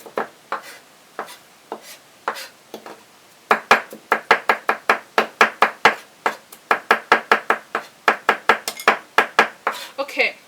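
A knife chops lotus root and vegetables on a board in a small kitchen: crisp, close knocks, sparse at first, then a quick, steady rhythm of repeated cuts, with a few quiet pauses.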